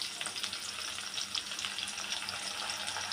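Ginger garlic paste and green chilies fry in hot oil in a pan for singara filling, giving a steady, soft, close sizzle with faint crackles and no voices.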